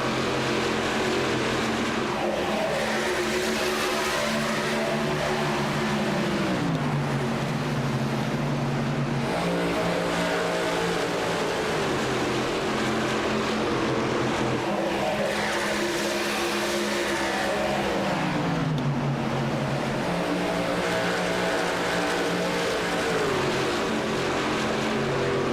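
Race cars lapping a track during a Contender Series stock car race, a continuous loud engine roar whose pitch repeatedly sags and climbs as the cars pass and shift, with no talking.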